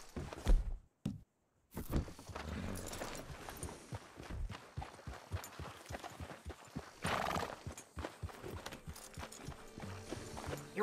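Video game horse hooves clip-clop steadily at a walking pace, close and fairly loud, with a horse whinnying briefly near the start, in Red Dead Redemption 2.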